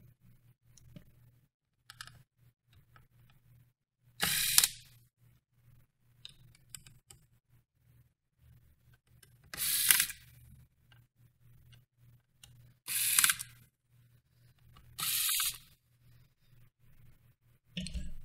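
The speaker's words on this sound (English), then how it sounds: "you want to remove the hard drive caddy by removing four screws" Screws are removed from an Acer Nitro 5 laptop's hard drive caddy, with four separate bursts of bright scraping and clicking spaced several seconds apart over a faint steady hum.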